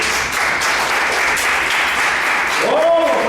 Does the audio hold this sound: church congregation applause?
yes